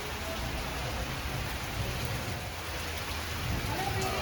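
Steady rain falls throughout on an outdoor shooting set, a dense even hiss of drops with faint thunder-like rumble in the low end and no clear speech.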